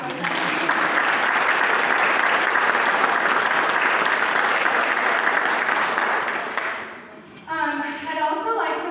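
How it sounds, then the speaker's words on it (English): A banquet crowd for a high school volleyball team applauds in a sustained, dense wash of clapping for about seven seconds, then fades as a voice begins speaking. "we'll give them a applause for that"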